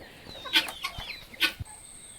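A native brooding hen clucks in a few soft, separate bursts, close by, with quiet pauses between the calls and no talking.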